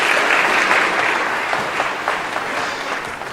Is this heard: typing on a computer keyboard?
no